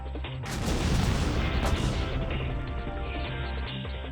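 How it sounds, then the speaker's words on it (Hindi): A World War II American bomb explodes near Miyazaki Airport in southwest Japan: one loud, broad blast rumbles in after a brief pause and keeps roaring and crackling to the end. "एक धमाका हुआ और आसमान धुआं हो गया।"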